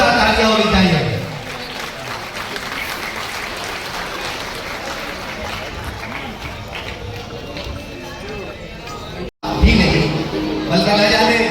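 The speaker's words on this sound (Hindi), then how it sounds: "जोरदार तालियां होनी चाहिए" Loud, dense applause from a gazal evening audience in Bhiwandi fills the stretch steadily, with a brief dropout near the end before it swells again.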